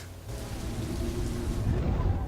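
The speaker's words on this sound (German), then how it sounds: "Ich glaub's regnet!" Rain falls steadily in the game Beyond: Two Souls, a broad hissing wash with a low rumbling undertone that swells slightly toward the end, with no voices.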